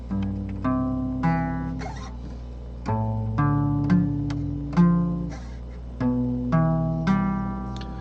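A guitar plays a slow progression of chords over a root, including a half-diminished chord, each strummed chord ringing out several times in a steady rhythm, close and clear with no talking.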